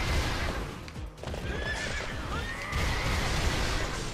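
A horse neighs in the Zelda Hyrule Warriors video game, a loud whinny over clip-clopping hooves and busy game sounds, with no talking.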